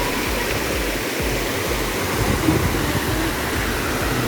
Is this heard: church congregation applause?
no